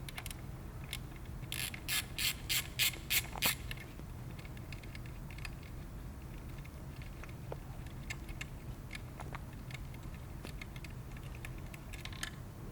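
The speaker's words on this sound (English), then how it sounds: "So the next step is to remove the nut off the top using your 10mm." A 10mm ratchet works a nut off the top of a VW/Audi 2.0T Gen 3 engine, giving a quick, crisp series of clicks early on, then sparse faint ticks and handling sounds over a low hum.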